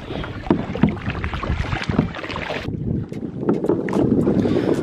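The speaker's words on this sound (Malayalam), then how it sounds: "നല്ല അടിപൊളി കാറ്റ് കേട്ടോ" Wind blowing across the Kavvayi backwater at Payyanur while kayaking, heard as loud, rough gusting and rumbling with light water movement, dropping briefly in the middle before building again.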